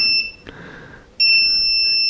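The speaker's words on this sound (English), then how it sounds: "this will beep. It's an SOS." An electronic SOS beeping tone from a Shell 500W portable power station sounds in a steady high pitch, drops away briefly, then returns loud and sustained, like an emergency signal beacon.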